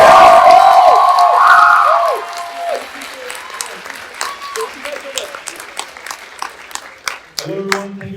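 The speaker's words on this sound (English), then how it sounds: "Another round of applause for the cast" After a stage show, a theatre audience claps and cheers loudly for the cast, whoops and shouts rising over dense applause before it thins into scattered claps, with a voice speaking over the end.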